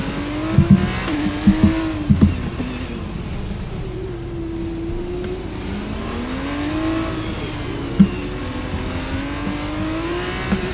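An F2 race car lapping Monaco in the video game F1 23, its engine note rising and falling steadily through the corners with a few sharp clicks and bumps, loud and continuous with no talking.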